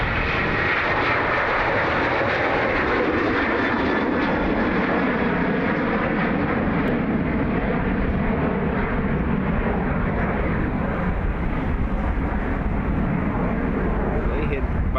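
An airliner rumbles loudly on the runway at Dublin Airport, a continuous roaring engine wash that holds steady throughout with a slight shift in tone near the end.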